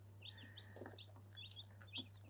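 Young mixed-breed chicks give a few soft clucks and high chirps in short bursts, close by, over a steady low hum with no talking.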